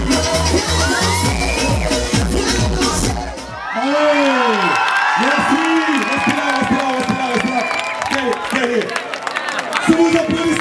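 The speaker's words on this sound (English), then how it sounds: "Sous vos applaudissements pour le Swaziland, ensemble Pelepele" A festival crowd cheers, whoops and claps for the Pelepele dance troupe from Swaziland at a lively European show, loud and continuous for about ten seconds, with children shouting and a steady wash of voices over a thumping club beat.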